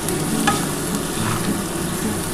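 Chilli powder and sugar fry in a pan with young jackfruit and ground ginger, garlic, cumin and tomato paste, giving a steady, close, even sizzle with faint stirring scrapes throughout and no voices.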